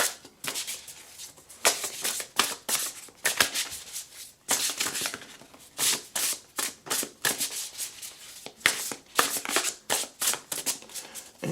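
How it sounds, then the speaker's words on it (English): Oracle deck cards are shuffled repeatedly in a quick, rhythmic run of crisp riffling bursts and soft slaps, close and fairly quiet, with no talking. "So let's shuffle, shuffle, shuffle."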